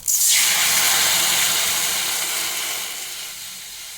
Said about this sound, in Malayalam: ഇനി നമുക്ക് ഇതിലേക്ക് വെള്ളം ഒഴിച്ചു കൊടുക്കാം